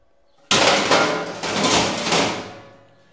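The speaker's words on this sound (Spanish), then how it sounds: "Pongo la rampa en su sitio." A metal ramp on a motorcycle trailer drops into place with a sharp clanging impact, followed by a few more rattling metallic knocks that fade out over about two seconds.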